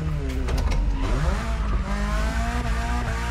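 A BMW M3 E30 Sport Evolution drifting through corners in the video game The Crew Motorfest, engine droning and rising in pitch with steady tire noise, loud and continuous throughout.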